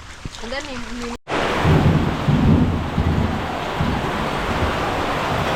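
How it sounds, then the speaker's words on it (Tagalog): Heavy rain pours steadily with a broad roar during a thunderstorm in a flooded area, loud and continuous after a brief stretch of voice at the start. "ang lakas ng ulan, no? Baha na naman dito."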